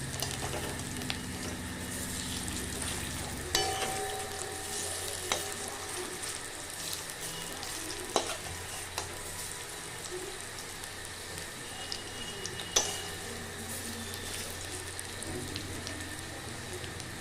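Cabbage pakoras fry in oil in a wok, a continuous soft sizzle and crackle with a few clinks of a utensil as they are turned, no voices.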